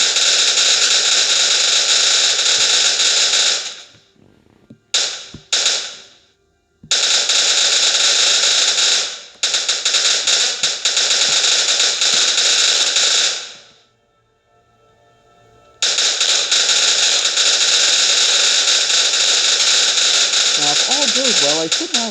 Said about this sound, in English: Not sure if I'm even hearable over all this gunfire here.